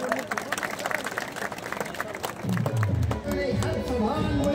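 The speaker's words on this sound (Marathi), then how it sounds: "त्यांचं टाळ्या गजरात स्वागत करायचंय" A crowd at a political rally applauds to welcome a speaker, clapping mixed with murmuring voices and shuffling, then a louder rumble of crowd noise and raised voices swelling toward the end.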